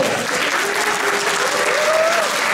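Dense, steady applause from an audience at a French gaming convention panel, filling the whole stretch, with a faint tonal whistle or hum gliding underneath.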